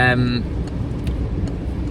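A car drives along the road with a steady close engine and tyre rumble from inside the cabin, while a person talks over it.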